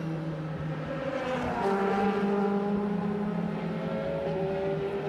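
A DTM touring race car at qualifying on the Spielberg circuit, its engine droning and rising in pitch as it accelerates past, steady and moderately distant.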